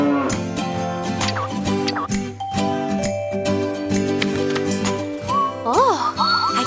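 An interactive farm-animal sound book plays a recorded cow moo through its small speaker, the electronic call rising and falling over a tinkly musical jingle, loud and close.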